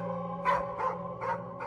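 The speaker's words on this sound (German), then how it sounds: "seinen Hund draußen heftig bellen" A dog outside barks hard four times in a steady rhythm, each bark loud and close, staged as a sound effect in a German radio drama.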